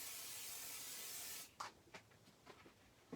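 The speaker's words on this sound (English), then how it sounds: "I think I'm going to have to very, very quickly add some more pixie spray" Pixie spray hissing from an aerosol can in one steady, continuous burst lasting about a second and a half, then cutting off and leaving faint scattered rustles and taps of handling.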